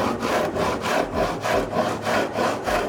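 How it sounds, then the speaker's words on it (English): A hand rasp is worked back and forth along the wooden rail of a plywood surfboard kit, giving about seven even, close scraping strokes in a steady rhythm with no talk. "whether I'm using a block of wood and sandpaper or this rasp, I'm using almost my finger as a guide, and I'm sliding this on the board."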